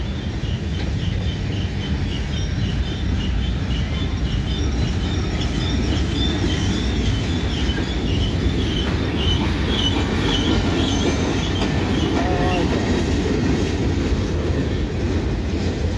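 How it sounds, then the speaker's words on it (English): A long freight train of empty cars rumbles past close by, continuous rolling of wheels on rails with faint metallic squeals from hung-up brakes and clanks throughout. "this is a big long train, it looks like"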